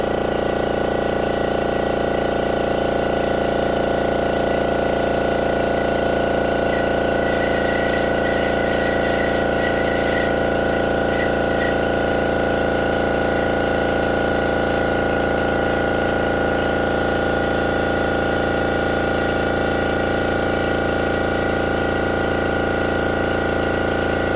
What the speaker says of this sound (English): wait for my air compressor to kick off